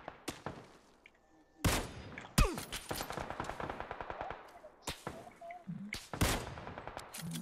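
Gunfire in PUBG on PS4: loud, sharp single shots and rapid automatic bursts crack out in irregular clusters with short gaps between them, close and dominant, with no talk.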